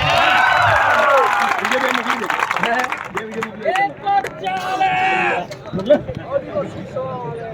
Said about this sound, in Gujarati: સાહેબ માટે જોરદાર તાળીઓના ગણગણાટ